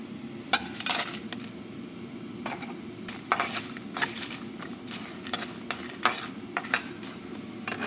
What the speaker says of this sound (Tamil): முதல்ல மிளகாயை வறுத்துக்கலாம்